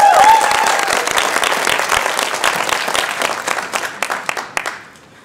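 Demo day audience applauding and cheering, a dense burst of clapping that stays loud for several seconds, then thins into scattered claps and fades out near the end.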